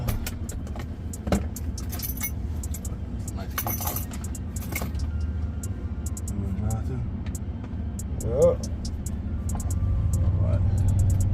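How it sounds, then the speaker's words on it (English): A 2023 RAM 1500 Big Horn Night Edition pickup rolls along a road with a steady low cabin rumble and road noise, interrupted by occasional keys jangling and small clicks, and the hum swells slightly toward the end. "we taking this thing on the road now"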